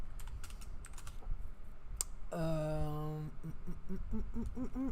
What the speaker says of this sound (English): the mic is right above the keyboard and I can't type without watching